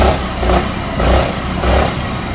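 A Suzuki Burgman scooter engine idles just after starting, a loud, close, low rumble that swells and fades in a regular pulse about every half second.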